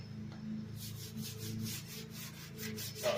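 Scouring pad and baking soda scrubbing kitchen cabinets, a steady rasping rub that repeats in even strokes close to the listener, with no talk over it.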